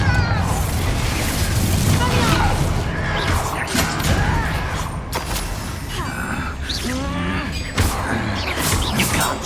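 A Confringo blasting spell from Hogwarts Legacy bursts in loud, crashing explosions amid ongoing battle noise and shouted voices.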